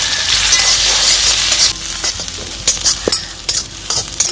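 Onions sizzle as they go into hot coconut oil on a wood-fired stove. A loud, steady frying hiss comes first, then it quiets to softer sizzling with a few stirring scrapes and clinks.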